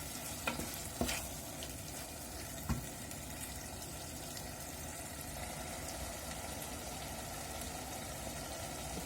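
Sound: stirring a mixture with a teaspoon of sugar

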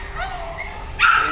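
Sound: puppy barking

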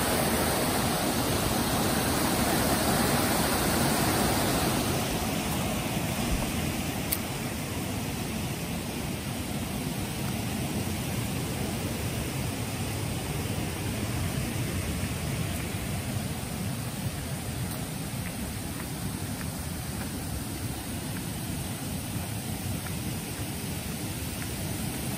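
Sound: natural stream flowing over rocks

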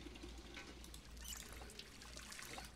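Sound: filling a kettle with water in video game Project Zomboid

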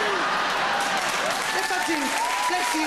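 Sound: comedy club audience applause

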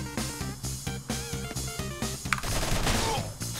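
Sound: rapid-fire gunshots in video game Mercenary Kings

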